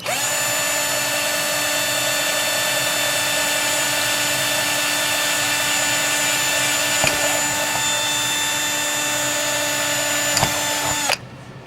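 A power drill whirs steadily at high speed for about eleven seconds, drilling holes in a lid, a sustained mechanical whine that cuts off abruptly at the end.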